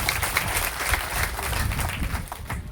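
An audience applauds steadily at an Assamese honouring ceremony for a distinguished guest, the clapping dense and lively throughout and fading slightly near the end.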